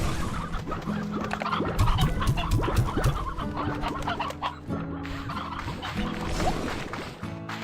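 Chickens in the video game Slime Rancher 2 cluck and gobble continuously in a busy flock, fairly close with overlapping calls and no voices.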